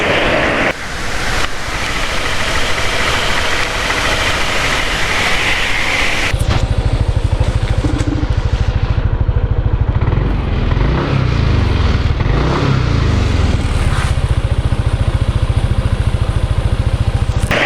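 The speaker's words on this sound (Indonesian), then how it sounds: "mesin baru dinyalakan suaranya kasar, mesin habis digeber suaranya lebih halus" An NMAX scooter engine running loud and close, rough and steady at first, then rising into a harsher revving drone with wind rushing over the microphone.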